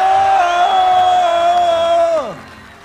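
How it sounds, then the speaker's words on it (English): A large crowd at a Battle of the Nations medieval combat event in Prague roars for Czech fighters, one sustained loud chanting or yelling note from many voices that drops off sharply at the end. "Listen to the crowd going nuts for their Czech fighters."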